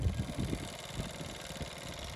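Motorbikes arriving with engines running, heard as a low, steady engine rumble with uneven throbbing pulses, fairly faint and muffled throughout.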